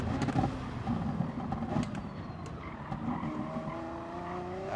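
A racing car brakes hard in Gran Turismo Sport, its tires squealing in a rising, drawn-out screech over a steady engine drone, with no one speaking.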